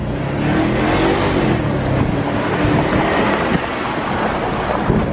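A BMW 650i V8 accelerates while driving, a loud, steady engine roar with broad road and wind rumble heard from inside the car, holding level throughout with no talk.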